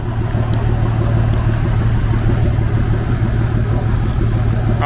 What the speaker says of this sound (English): Loud diesel right here.